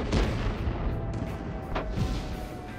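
Airstrike explosions in the video game Frontlines: a continuous rumbling barrage of deep booms and blasts, with a couple of sharper impacts standing out, loud and dense throughout.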